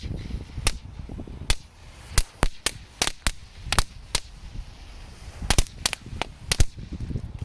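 A crackling whip firework set off in water makes a string of sharp firecracker pops and crackles going off irregularly, some in quick clusters, loud against a quiet watery background.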